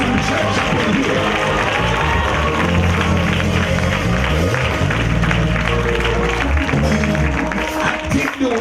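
A church congregation claps along in a dense, continuous wash of hands, with crowd noise, voices and low music or rhythm running underneath throughout.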